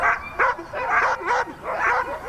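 Sled dogs bark and yip in quick, excited bursts, several voices overlapping with whiny, rising calls. They sound close and loud.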